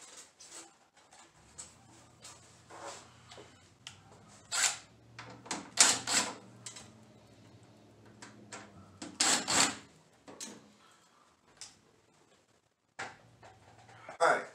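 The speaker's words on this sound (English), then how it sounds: "So I went ahead and got the two screws off." Screws being unscrewed from the back panel of an NZXT Phantom 410 PC case, heard as close, intermittent scraping and clicking bursts with quiet gaps, under a low steady hum.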